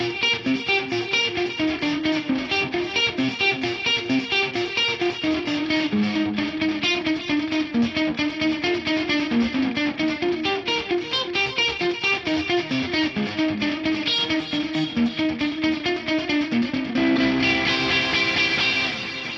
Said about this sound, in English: where you've got a phase reverse on one of the audio channels, can give you that wonderful rhythmic slapback